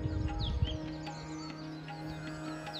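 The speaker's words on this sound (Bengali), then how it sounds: "শুধু পাখির ডাক চারিদিকে।" Outside a hill homestay in South Sikkim, birds chirp and call intermittently, short high tweets scattered over a steady low background hum, with a louder rumble at the start.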